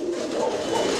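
A pair of fancy pigeons at a bird market coo softly, a short, low, close-up murmur with no talking.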